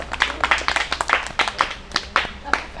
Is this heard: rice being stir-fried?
no